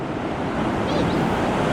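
Ocean waves wash in at a beach in Siargao, Philippines, with a sea breeze, a loud continuous roar of surf mixed with wind buffeting the microphone.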